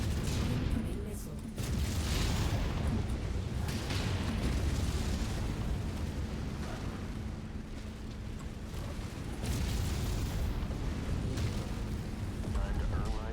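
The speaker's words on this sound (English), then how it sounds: "Incoming missile." Missile explosions rumble in the MechWarrior 5 video game, a dense, continuous low booming barrage of battle noise with heavy blasts layered together, loud throughout, with in-game radio voices speaking over it.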